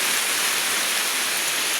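Steady, dense rain falls outdoors during a kite-flying outing, a close and fairly loud even hiss with no break and no voices.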